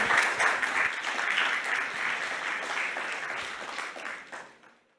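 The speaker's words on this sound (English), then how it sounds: "Please give them another round of applause." An audience at a tourism data leadership conference applauds steadily, a dense wash of clapping that holds for several seconds and then fades out quickly.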